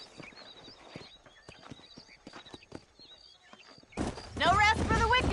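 Horses clip-clopping at a trot in the Red Dead Redemption video game, an outlaw-era frontier setting near Armadillo, with steady hoof beats through most of the stretch before a louder burst of speech takes over at the end.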